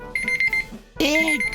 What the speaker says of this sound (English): Phone alarm.